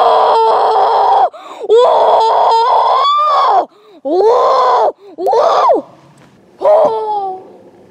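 Exaggerated cartoon chicken call from a cooking show: a series of loud, high, squawking bursts with rising and falling warbles, separated by short gaps, up close with no other sound.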